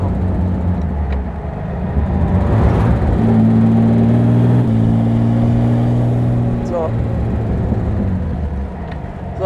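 A Jaguar SS 100 Suffolk replica from 1977, a prewar-style roadster with over 200 hp, drones steadily while driving, its engine hum and wind noise continuous and fairly close, with someone talking over it.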